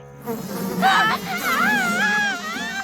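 Cartoon mosquitoes from Family Guy buzzing in a jungle village, a wavering whine that rises and warbles steadily for a few seconds and may be a voice imitating the insects.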